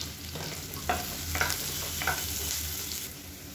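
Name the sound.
onions stirred and frying in oil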